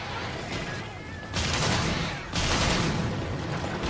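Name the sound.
bowgun firing in the video game Monster Hunter 3 Ultimate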